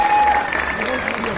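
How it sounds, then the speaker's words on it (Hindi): An audience at a Delhi fashion show gives a brief burst of applause, heard under a voice speaking and a faint tonal sound. "मैंने सुना था कि दिल्ली वाले ताली बजाने में काफी मतलब तगड़े हैं"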